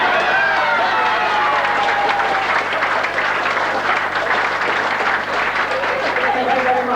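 Sustained applause from a large audience at a football award night, steady and loud throughout with continuous dense clapping and a few faint voices mixed in.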